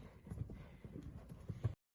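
Horse hooves clip-clop at a thoroughbred retraining centre's lunge pen or arena, a steady run of fairly close, uneven thuds on soft footing with no talk.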